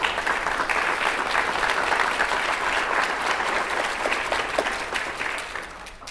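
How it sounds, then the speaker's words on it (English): Audience applause at a school district State of the District event, a broad, sustained wash of clapping from a large crowd that holds steady for several seconds and tapers slightly at the end, with no talk over it. "Let's give them a big round of applause."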